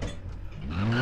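A rally car on asphalt in Dirt Rally 2.0 loses grip, its engine droning as a rising tire squeal and skid builds up toward the end of a brief moment.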